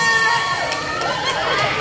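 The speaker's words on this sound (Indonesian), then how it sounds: "Beri tepuk tangan yang meriah." Crowd at a Jaipong Goyang Karawang dance performance gives lively applause and cheering, a dense continuous wash of claps with shouting voices mixed in, including children's, held steady and loud throughout.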